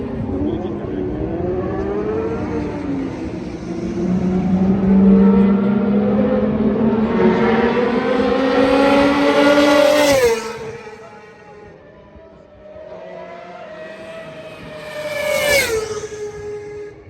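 Lando's McLaren Formula 1 car screams past on a race track, its high-pitched engine rising through the gears in a long loud pass with a sharp Doppler drop, followed by a second quicker pass.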